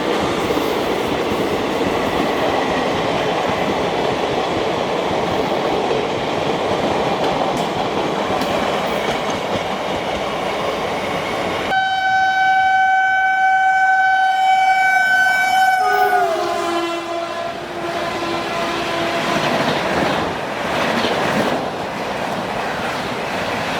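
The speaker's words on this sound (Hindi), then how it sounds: "बरौनी से चलकर ग्वालियर जाने वाली बरौनी ग्वालियर एक्सप्रेस" Barauni Gwalior Express running non-stop past Bharthana, a loud steady rumble and clatter of wheels on rails, with a long sustained horn sounding partway through as the train rushes by.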